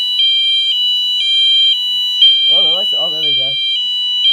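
A Firelight BG12 fire alarm control board with a wheel lock sounds a steady, pulsing electronic alarm tone that repeats about twice a second throughout, with someone speaking briefly over it.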